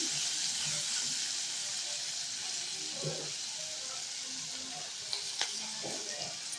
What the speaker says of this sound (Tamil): இதெல்லாம் சேர்ந்து நல்லா வதக்கிக்கோங்க